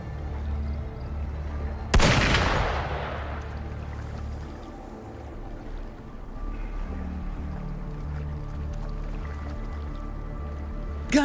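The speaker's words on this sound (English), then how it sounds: "Gunfire! We've got intruders." A single sharp gunshot-like blast in the Wuthering Waves game, loud and sudden, then a long decaying rumble over low game ambience and music.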